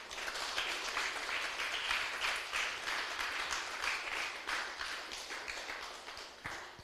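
Sustained applause from a church congregation, steady and fairly loud for several seconds, then tapering off near the end.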